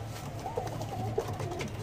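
A fit pigeon gives short, soft coos, with one or two distinct calls standing out over a steady low background hum.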